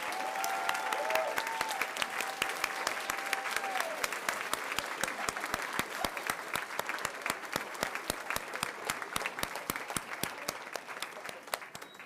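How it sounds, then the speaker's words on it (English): Sustained crowd applause for the Stewart Middle School Band at a county school board meeting, a dense, steady clapping that holds at even volume for the full twelve seconds with no break. "Let's give it a round of applause again for the Stewart Middle School Band."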